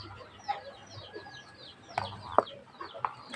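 A red Basilan gamefowl rooster clucks nearby in a few short, sharp bursts over a quiet outdoor background.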